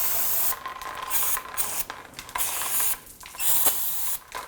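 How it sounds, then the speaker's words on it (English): Brake parts cleaner sprays onto the rear brake backing plate of a 1997-2004 Dodge Dakota. It comes as a series of close, loud aerosol hiss bursts with short pauses between them. "brake parts cleaner and clean that up."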